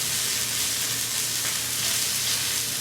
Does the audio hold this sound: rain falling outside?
no